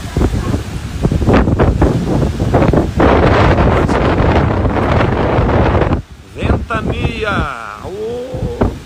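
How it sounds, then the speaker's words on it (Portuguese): Strong wind gusting around a house, roaring loudly into the microphone in heavy buffeting bursts for several seconds, then dropping off as a person's voice comes in near the end. "Ventania."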